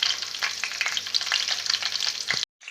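Cumin, coriander seeds and chopped green chillies fry in hot oil, a loud crackling sizzle with spattering pops and stirring, cutting off abruptly near the end.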